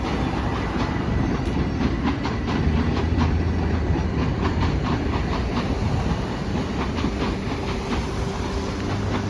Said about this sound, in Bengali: ট্রেন ছেড়ে যাচ্ছে